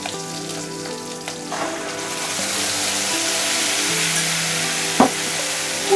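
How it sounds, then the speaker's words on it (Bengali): A spice batter hitting hot oil in a pan with fried teasel gourd (kakrol), a loud, close sizzle that swells and holds steady, with a soft clink of a utensil near the end and no talk. "দিয়ে কাঁকরোলের সাথে ভালোভাবে কষিয়ে নিব"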